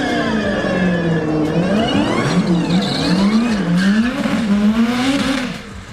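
Cars drag racing at a race track, engines revving hard and sweeping up and down in pitch through gear changes, loud and close with a continuous roaring drone.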